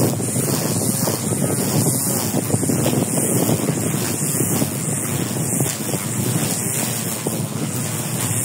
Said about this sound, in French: Il y a du vent, il y a la tempête,